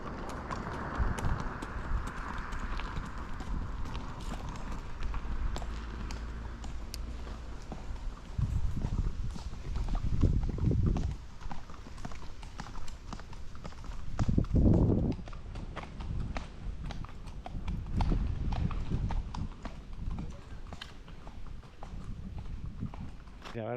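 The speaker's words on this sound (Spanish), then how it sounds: "Y aquí vemos unos caballos pasar." Several horses walk past, their hooves clip-clopping in a steady rhythm that swells as they draw near, with some talking and outdoor ambience around them.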